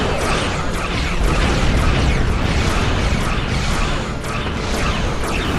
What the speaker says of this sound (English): Press the right trigger to fire energy weapon.